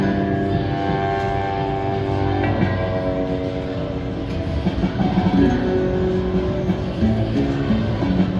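Slot machine bonus feature with a rumbling train and blaring train horn sound effect, a continuous loud mechanical clatter with a sustained horn tone running throughout, no talking.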